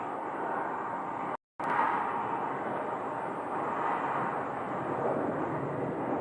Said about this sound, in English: We have an Embraer 175 approaching